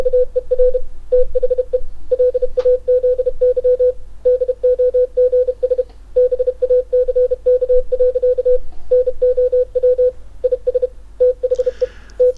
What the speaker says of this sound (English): Let's see a demonstration of it decoding 33 words per minute.